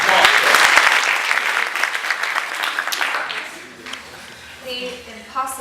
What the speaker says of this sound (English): After one round of applause.